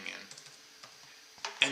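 Light typing on a computer keyboard while working in Python with pandas: a short run of soft, irregular key clicks, quiet and close, ending with a couple of louder taps.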